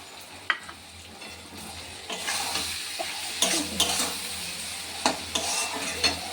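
Bitter gourd frying in a pan with mustard, poppy seeds, white sesame and green chili, a continuous sizzle punctuated by scraping stirs and light clinks of a utensil against the pan.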